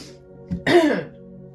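A single short, raspy throat clearing, close and fairly loud, preceded by a brief breath in a quiet room.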